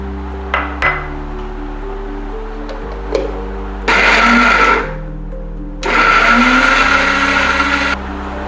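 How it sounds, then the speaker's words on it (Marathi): A kitchen mixer grinds soaked chickpeas with garlic, green chilli and coriander, whirring loudly in two bursts of about a second each, with quieter motor hum and a few clinks in between. "हरभरा मी मिक्सरला वाटून घेतलाय। हरभऱ्यामध्ये वाटताना मी लसूण, मिरची आणि कोथिंबीर सुद्धा टाकली होती"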